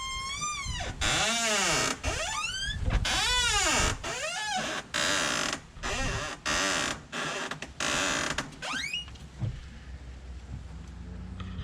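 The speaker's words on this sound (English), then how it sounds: "I am going to fix the door squeak." A Holden VN Commodore car door creaks and squeaks in a run of drawn-out, rising and falling squeals as it is swung back and forth, loud and close, ending in a quieter rustle.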